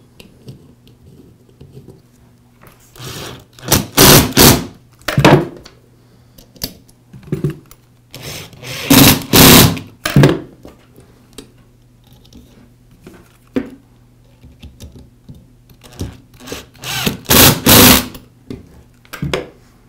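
Screws being driven to resecure the gear case of a DeWALT angle grinder, heard as bursts of rapid close clicking and ratcheting, repeated several times with pauses between.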